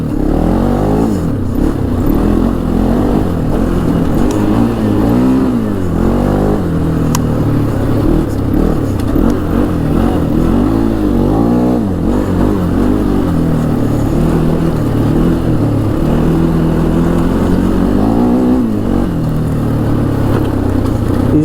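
The dual overhead cam single-cylinder engine of a 2006 Bombardier DS650X ATV revs hard and close, rising and falling repeatedly in a loud, raspy, continuous roar throughout.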